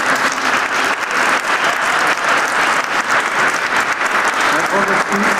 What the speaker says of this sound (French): qu'on puisse vous applaudir très fort. On peut les applaudir vraiment.